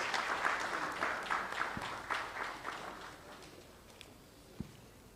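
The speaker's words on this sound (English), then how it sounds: "Please welcome her with a round of applause." A conference audience applauds as the audit partner is welcomed onto the stage at a budget discussion event, steady clapping that slowly fades over several seconds.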